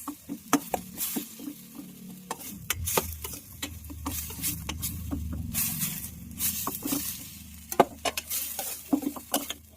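Chopped sayote sautéing in a pan while a spoon stirs it, with irregular scraping and clacking knocks over a steady sizzle, close and fairly loud, with no speech.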